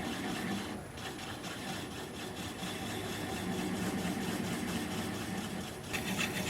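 A wood lathe turns a cherry limb bowl as a gouge hollows the center, giving a steady rubbing, scraping drone with a motor hum underneath, continuous and close with no speech.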